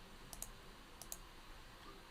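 Two quick pairs of sharp, quiet computer mouse clicks on an Add button, set against a faint background hiss.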